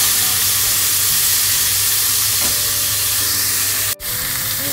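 A Wagyu beef steak sizzles loudly in a pan, a dense, continuous hiss that briefly cuts out near the end as the steak is flipped, then resumes.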